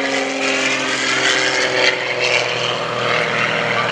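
Aerobatic propeller airplane flying at the Greenwood Lake Air Show, a loud, steady engine drone with a buzzing propeller whine that swells slightly as it passes, with no voices.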